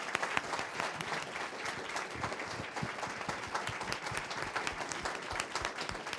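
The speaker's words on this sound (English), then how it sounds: "Perhaps a last round of applause to our 10 networks represented here." An audience applauds steadily at a conference forum, a dense wash of many hands clapping that continues throughout at moderate volume.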